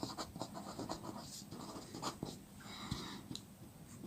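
Math factors being written out during a maths lecture, a soft, close series of scratchy pen or marker strokes in irregular bursts, quiet and without speech.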